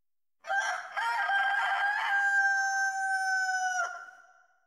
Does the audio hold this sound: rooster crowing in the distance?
yes